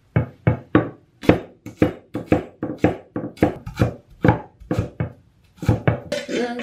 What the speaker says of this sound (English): you just need to chop the garlic and ginger